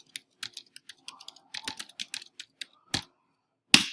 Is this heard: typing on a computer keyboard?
yes